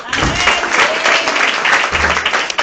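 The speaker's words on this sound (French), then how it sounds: "Acclame Jésus pour toi-même" Congregation clapping during a Sunday church service, a dense steady applause with raised voices mixed in, loud and close throughout.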